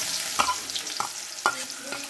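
Chopped onions frying in a pan with white cardamom, cinnamon and black cardamom, a soft continuous sizzle with three distinct clinks and scrapes of a stirring spoon, close by and with no talking.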